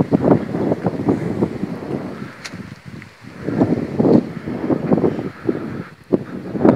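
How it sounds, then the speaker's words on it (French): Strong gusts buffet the microphone in rough, rumbling waves that swell and ease beside a sunflower field, with no voices present. "comme il y a beaucoup de vent"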